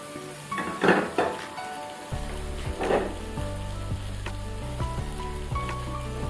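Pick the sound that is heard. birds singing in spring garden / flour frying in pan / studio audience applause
flour frying in pan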